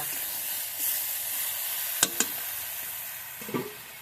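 Curry of taro stolon, jackfruit seeds and dried fish keeps a steady, fairly loud sizzle and hiss in a frying pan, with a couple of sharp clinks and a soft splash of water near the end.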